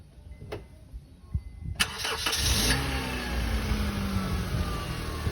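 A car engine cranks with a brief starter whir and catches, then settles into a steady idle that stays close and fairly loud, while a brake bleeding job is under way at home.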